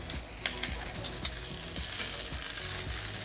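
Corn sizzles and crackles steadily on a hot Blackstone griddle, a dense close frying hiss broken by a few sharp pops and clicks of tongs, faint and alone.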